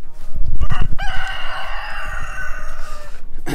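A rooster crows loudly and nearby on a farm in Portugal, one long drawn-out call with chickens clucking around it, set among a flock of about thirty birds.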